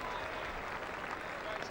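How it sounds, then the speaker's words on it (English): Crowd clapping at the England v Zimbabwe one-day cricket match at Old Trafford, 2000, after Andrew Flintoff fields at mid-off, a steady wash of applause throughout with a commentator talking over it. "He's getting applause now from his captain"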